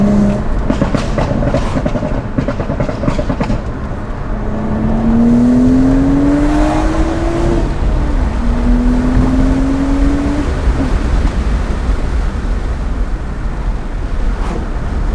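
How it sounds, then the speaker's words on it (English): A BMW E82 135i with full bolt-ons, a muffler delete and a catless downpipe, its exhaust droning loud and close as revs rise and fall, with crackly bursts over the steady tone. "So that's where you're getting all those pops and crackles as well."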